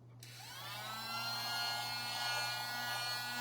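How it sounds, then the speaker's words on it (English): A tiny handheld vacuum cleaner switches on and whines steadily, its high motor tone rising then holding, close by with a low hum underneath. "I have the world's cutest little vacuum."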